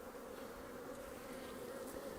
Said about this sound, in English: So there's not too many bees and there's not too little amount of bees.